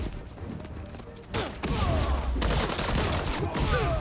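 Gunfire in the superhero action game Marvel's Spider-Man 2, a sudden loud burst of shots that gives way to continuous rattling combat noise with thumps.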